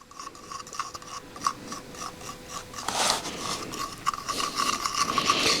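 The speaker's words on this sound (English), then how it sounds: "we're going to mix up our JB Weld," JB Weld epoxy being mixed by hand, a close scraping and rubbing with rhythmic strokes that grow busier toward the end.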